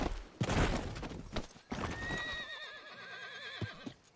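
A horse in Red Dead Redemption 2 gives a loud, close whinny with a wavering, trembling pitch that fades out toward the end. Hoof clip-clops and other rough noises come just before it.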